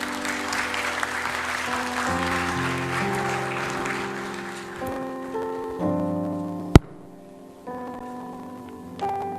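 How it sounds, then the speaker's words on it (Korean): A church congregation claps together at a Korean evening worship service, a dense, steady round of applause that fades after about five seconds as sustained instrumental music takes over. "박수로 한번 격려해 주시겠습니까?"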